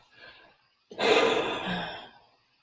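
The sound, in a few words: deep breath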